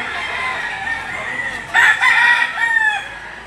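Roosters crow and chickens cluck at a poultry market in Lipa City, Batangas, with a loud close crow rising mid-clip over a steady background of other birds; no talk.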